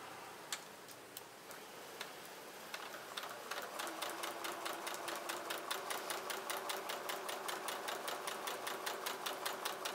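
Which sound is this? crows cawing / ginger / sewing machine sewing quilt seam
sewing machine sewing quilt seam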